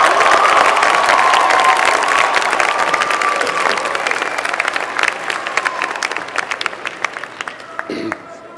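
Graduates at a 2017 winter commencement break into loud cheering and applause, a dense roar of clapping and shouts that slowly thins out into scattered claps before fading away.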